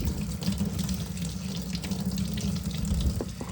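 Warm water runs steadily from a tap into a sink, a continuous broadband splashing rush that holds at an even level throughout, with no voices.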